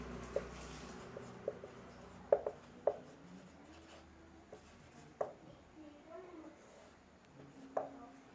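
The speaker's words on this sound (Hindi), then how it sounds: "तो यहाँ पे लिखता हूँ मैं," Marker or chalk strokes on a classroom board, a sparse series of short, quiet taps and scratches spaced irregularly in a quiet room.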